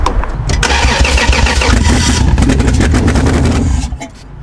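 A Toyota Supra being started for the first time in 15 years: the engine cranks and catches, running loudly and roughly close by for several seconds before dropping away.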